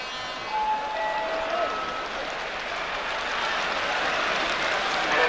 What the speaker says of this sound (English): Munaron getting some applause from the Tottenham supporters for a good stop